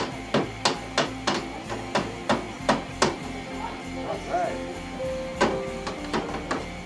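Sharp hammer blows strike repeatedly in a loose rhythm, about a dozen loud close impacts with short pauses, over faint background hum and a brief high tone.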